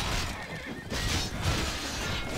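A horse neighing in the medieval combat game Mount & Blade: Warband, a loud, shrill whinny heard in separate bursts over a busy background of hoof clatter.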